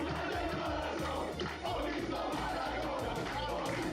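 A football video game crowd cheers and chants as a continuous loud roar, with a commentator's voice over the top.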